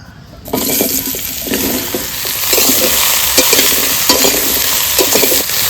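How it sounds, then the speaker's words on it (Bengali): Loud, continuous sizzling of bottle gourd frying in hot oil in a wok starts suddenly and keeps going, with occasional scraping and stirring knocks, close by. "ওই তেলে লাউগুলো দিয়ে দেবো প্রথমে লাউটা রান্না করে নেবো"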